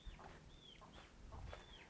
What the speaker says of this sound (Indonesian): Ini masih ada ayam.